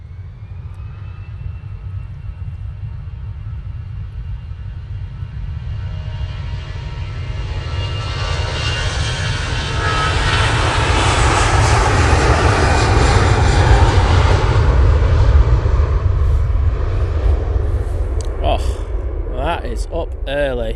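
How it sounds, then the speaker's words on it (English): A Jet2 Airbus A321ceo airliner departs with a low engine rumble and rising whine that builds to a loud, full roar midway and stays strong, while a voice talks over it. "Jet2 A321 CEO ready to go out."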